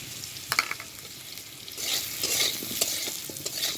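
Potatoes with salt and turmeric being stirred in a hot pan for shukto, with repeated close scraping strokes of the spoon over a soft frying sizzle.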